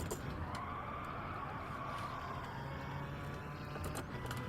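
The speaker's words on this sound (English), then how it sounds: "I hit the rev limiter" A race car revs hard against its rev limiter in Gran Turismo 7, a steady, strained engine drone held at high pitch with faint tire noise, with no one talking.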